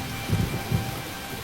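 Rain and cold wind in a film scene set on a deserted island after a shipwreck, a steady broadband wash of rainfall with two low rumbling swells, with no talk.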